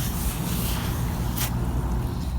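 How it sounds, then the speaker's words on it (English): A sponge-sided scrub brush rubs across the painted body of a camper van during washing with Zep cleaner, a loud close continuous scrubbing swish with one brief sharper stroke partway through. "Put a little pressure to it with a standard scrub brush."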